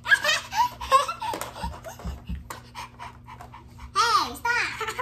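A child pants rapidly in imitation of a puppy during a lively tabletop game, mixed with giggles, laughter and children's chatter throughout.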